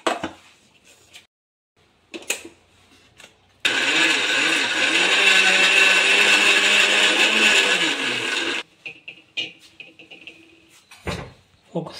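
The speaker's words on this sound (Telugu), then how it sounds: "మిక్సీ జార్లో కొద్దిగా వాటర్ని వేసి మిక్సీ పెట్టుకోవాలి ఫ్రెండ్స్ మెత్తగా" A mixer grinder whirs loudly for about five seconds as it blends curry leaf paste with water, framed by scattered kitchen clatter and handling noises before and after.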